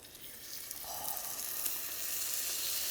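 Veal paillard sizzles in a little extra virgin olive oil in a heavy skillet, a soft, bright crackling hiss that swells slightly and then holds steady, with no one talking.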